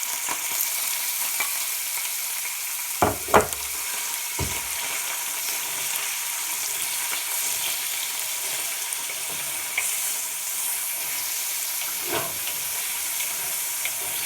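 Meat cooks in a pan with a steady, hissing sizzle, broken by a few sharp knocks and scrapes of stirring.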